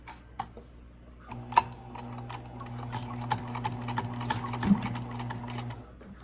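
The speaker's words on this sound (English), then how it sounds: "I sew the top stitch on the labels" A sewing machine runs top stitching across labels on a scarf, a quiet steady whir with sharp intermittent clicks and ticks scattered throughout.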